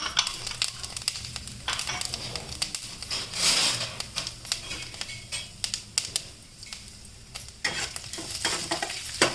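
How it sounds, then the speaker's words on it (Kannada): Cumin seeds frying in hot oil while making gongura leaf thokku, a steady crackling sizzle with scattered pops and spoon scrapes, moderately close and continuous without speech. "ಈಗ ಒಂಚೂರು ಎಣ್ಣೆ ಕಾಯಕ್ಕೆ ಇಟ್ಬಿಟ್ಟು ಅದಕ್ಕೆ ಫಸ್ಟು ಹೀಗೆ ಜೀರಿಗೆ ಹಾಕಿದ್ದೀನಿ"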